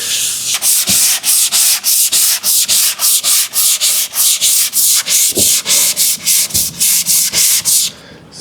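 Loud, close back-and-forth strokes of block sanding over body filler on a car dent repair, roughly three rasping passes per second in a steady rhythm, with no speech.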